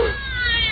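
A cat meows once over a telephone line in a radio drama, a single drawn-out, filtered cry heard close and fairly loud.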